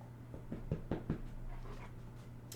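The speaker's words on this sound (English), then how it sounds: "can you hear him sniffing? Yeah, it's a good dog ASMR." A dog sniffing close by during an indoor podcast recording, a series of short, quick snuffling bursts clustered together, faint against a low steady room hum.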